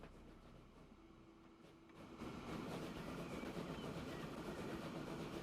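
Trains run in the video game Transport Fever 2 on a UK map near Blackpool. A steady rumble rises partway through into a continuous rolling clatter of rail cars passing close by, with no talking.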